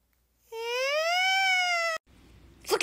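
A cat gives one long, drawn-out meow that rises and falls in pitch, loud and close, then cuts off abruptly into brief rustling noise.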